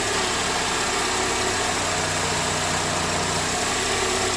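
A Honda Accord engine idles steadily up close with the AC compressor on and no Freon in the system, a constant low hum with a faint mechanical whir layered over it and no other sounds.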